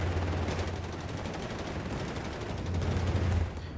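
Browning BAR automatic rifle fire in the Company of Heroes 3 strategy game, a dense, continuous rattle of rapid gunshots from several weapons overlapping into a steady battle din, loud and unbroken throughout.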